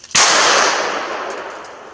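A single loud, close gunshot from a Life Card single-shot pistol, a sharp crack followed by a long echoing decay that fades over about two seconds.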